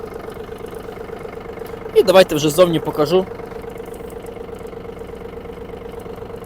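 A Yanmar F-200 mini tractor engine idles with a steady, even hum throughout, and someone speaks briefly over it near the middle.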